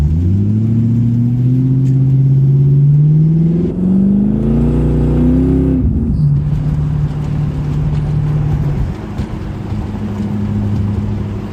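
Supercharged Coyote-swapped Ford GT500 on E85, driving with a loud, steady engine drone that rises through a long pull, drops at a shift, then settles into a lower cruise, with no talk.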